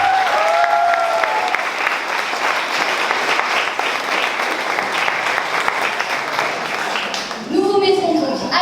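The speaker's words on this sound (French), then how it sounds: "Que nous pouvons déjà d'ailleurs applaudir." Sustained audience applause fills a talent show hall, dense and steady for several seconds, with a speaking voice over it at the start and again as the clapping ends.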